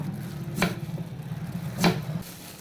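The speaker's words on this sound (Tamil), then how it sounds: "நல்லா தோல் சீவி எடுத்துக்கலாம் கட் பண்ணி தோல் சீவி வச்சுட்டேன்" A knife cuts through valli yam (kizhangu) on a surface during peeling and cutting: two sharp, close chops about a second apart over a quiet background hum.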